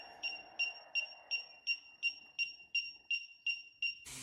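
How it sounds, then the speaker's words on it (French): A Cecotec Conga Windroid 990 window cleaning robot beeps loudly, repeating steadily about eleven times in an even rhythm after removal from the surface, close and alone, ending with a brief burst of noise. "Le bip, même une fois retiré de la surface, il est un peu excessif."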